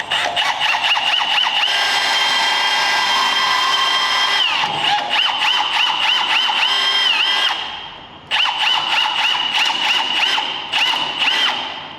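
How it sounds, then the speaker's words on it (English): A power drill bores a hole for a slab flattening jig, a loud whining drive with stuttering pulses that runs most of the time, briefly stops, then starts again close by. "Let's get this other hole drilled."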